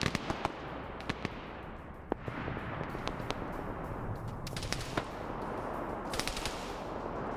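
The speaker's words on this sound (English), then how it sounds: "You hear a sniper firing." Rapid cracking gunfire in the video game High Kommand, with a sniper rifle among the shots, sharp reports in irregular bursts over a loud, constant battle din, fairly close, with no talk.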